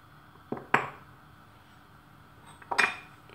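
A frying pan is set down on a stove, two short metallic clanks about two seconds apart against a quiet room, with no talking.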